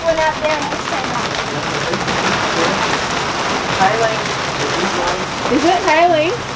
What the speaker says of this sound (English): I think it's raining right now.